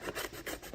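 Quick rhythmic scraping strokes, several in under a second, as a paper bag is cut, close and fairly quiet.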